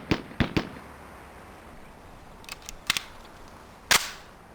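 Semi-automatic pistol shots ring out on the Police Quest: SWAT firing range, with three sharp reports in quick succession, a pause, then a couple more spaced cracks and a final loud shot.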